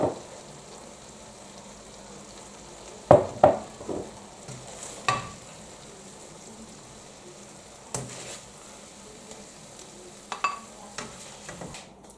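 A low carb vegan noodle dish simmers and sizzles steadily in a pan, with a few sharp clinks and scrapes of stirring utensils against the pan, no talking.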